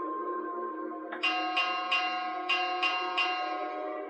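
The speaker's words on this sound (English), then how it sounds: "And ignore that bell." A bell rings several times in quick succession, each strike bright and ringing over a steady sustained tone, moderately loud and close.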